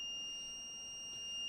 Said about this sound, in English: Don't be fooled by that beep, it's just saying it's connecting.